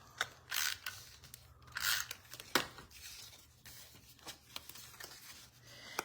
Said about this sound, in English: So I'm going to go on ahead and take my tape, my adhesive, and I'm going to put it right here.